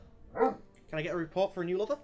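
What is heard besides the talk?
dog barking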